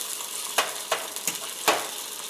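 Slices of capicola cook in a frying pan with a steady, soft sizzle, broken by a few sharp clicks or taps as the meat is moved about.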